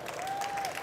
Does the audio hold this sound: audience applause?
yes